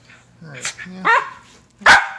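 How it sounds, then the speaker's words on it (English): A dog gives a few sharp barks and yips in quick succession, close by, with a voice speaking around them. "What are you barking about?"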